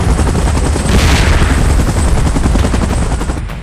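Helicopter in PUBG Mobile, a loud, dense rotor roar with rapid chopping pulses that fills the whole moment and fades slightly at the end.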